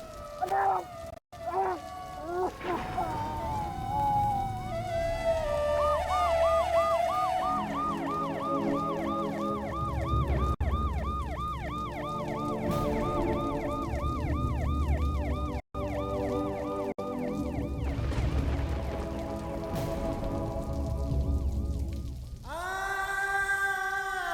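A wailing ambulance siren cycles loudly and continuously, rising and falling over a busy mix of traffic and street noise.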